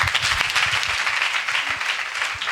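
Steady, loud applause from a Telugu Christian gospel meeting crowd, dense clapping sustained through the whole short stretch with no talk.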